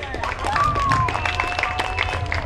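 A crowd at a pump track race applauds and cheers for a rider, with a lively clatter of clapping under a loud announcer's voice and some whistling.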